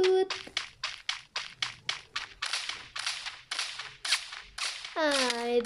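A bot firing at the player in the mobile battle-royale game Free Fire: a steady run of sharp, evenly spaced loud shots, about a dozen in a row, followed by a rising electronic effect at the end.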